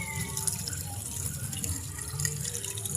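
Water runs into a converted automatic-to-manual washing machine for the last rinse, making a soft, steady trickle and splash with no voices.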